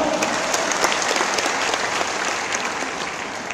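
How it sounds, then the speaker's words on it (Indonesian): An audience claps continuously at a sharing session in Jakarta, a dense, steady roar of many hands heard close and loud throughout, easing only slightly toward the end with no talk over it. "Tepuk tangan dulu dong."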